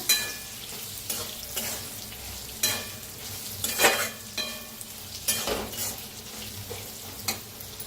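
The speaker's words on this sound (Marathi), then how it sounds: "त्याच्यात टाकूया तीळ, तिळाला बी भाजायचे या संगच" Sesame seeds roasting in a pan with chillies, a steady dry sizzle broken by repeated scraping stirs of a spatula against the pan, close and loud with no talking.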